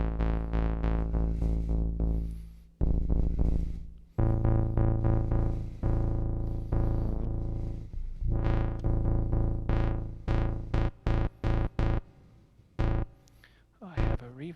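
A deep, bassy synthesizer bathed in reverb plays long sustained notes first, then shifts to shorter, choppy repeated stabs that ring out and decay into the space.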